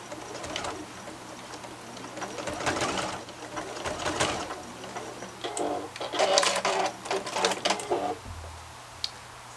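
A sewing machine back-stitches the start and finish of a fabric face mask in short, uneven bursts, moderately close, over a low steady background hum.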